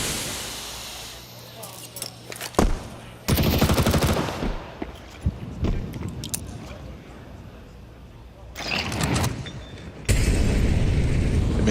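Gunfire in a professional Counter-Strike match, scattered sharp shots and short automatic bursts with loud sustained stretches of fire, mixed under continuous commentator talk.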